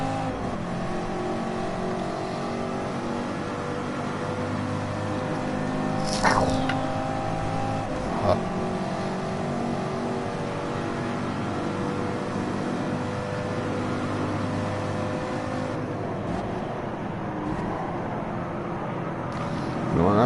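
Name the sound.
racing car engine in a PS4 racing video game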